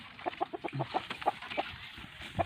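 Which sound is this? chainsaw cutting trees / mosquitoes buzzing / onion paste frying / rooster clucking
rooster clucking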